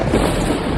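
A loud, dense rumble of thunder fills the moment, a broad roaring crash with no voices over it.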